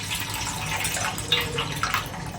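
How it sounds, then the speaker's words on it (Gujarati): Water is drained off soaked fenugreek seeds in a home kitchen, a soft, steady trickle and splash with a few brief drips standing out, fairly quiet and close. "આ રીતે એનું પાણી કાઢી નાખવાનું."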